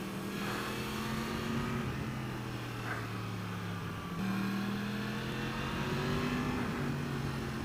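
A Yamaha FZ-10 with a crossplane inline-four engine pulls along the road, its exhaust note rising and stepping through shifts in a steady, moderately loud drone, with no voices.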